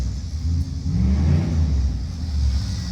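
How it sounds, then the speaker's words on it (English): A 40-year-parked Jeep Forward Control with transmission trouble is revved hard to get it into gear, a loud, close, rumbling engine note that rises and holds throughout with no talking. "So I have to rev it to get in gear."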